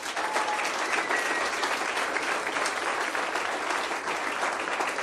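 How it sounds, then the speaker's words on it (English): An audience at a business summit breaks into sustained applause for the event team and staff, a dense, even roar of many clapping hands lasting the whole stretch. "I think the team and the staff deserve a big clap."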